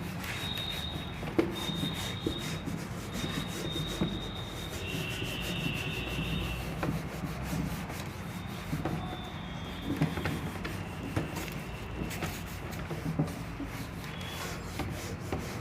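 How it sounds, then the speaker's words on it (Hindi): Steady rubbing of a board being wiped clean during a physics lecture, a continuous soft scrubbing texture running throughout with no talk over it. "ये रब कर देता हूँ मैं"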